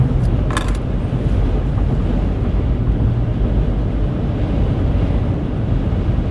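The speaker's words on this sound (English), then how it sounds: "We got sustained winds of 20 miles an hour." Strong blizzard wind roars steadily and loudly across the microphone during a storm chase in Nebraska and Kansas, with sustained gusts, near ten-degree cold and blowing snow, a dense continuous rush with no pauses.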